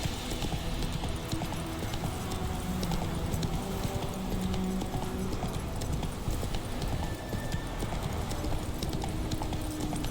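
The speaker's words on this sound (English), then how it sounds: "Come on, Roach. Whoa there, Roach." A horse trots with a rapid, continuous clip-clop of hooves in The Witcher 3, loud and close over a busy bed of game ambience.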